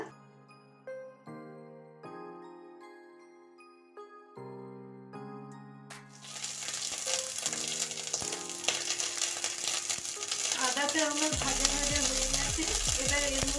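Ginger paste hits a hot pan and sizzles in a broad, steady hiss that starts midway and continues loudly to the end, following a stretch of gentle melodic music with faint clinks of stirring.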